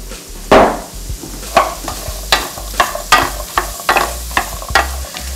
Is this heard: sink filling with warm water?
no